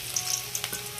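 Sliced onion hits hot oil that was left over from frying pakoras, giving a bright, close, continuous sizzle with crackling pops across the whole second.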